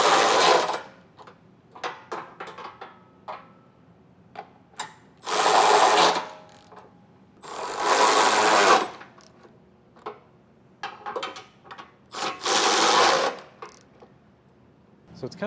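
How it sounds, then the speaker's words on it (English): Trailer hitch bolts on a 2025 Subaru Outback Wagon being tightened with a 17 mm socket on a power tool, several loud whirring bursts of one to two seconds separated by ratchet clicks and clanks, close up with no talking. "We'll get everything tightened down."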